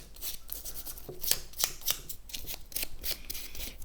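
Sandpaper is folded into a tab, making dry, papery scrapes and crisp creases in an irregular run of short strokes, close and moderately loud, no voices.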